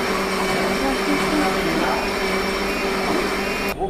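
An electric mixer grinder grinds spices in a temple kitchen at Puri's Omkareswar temple, a loud, steady whining roar that runs throughout and cuts off just before the end.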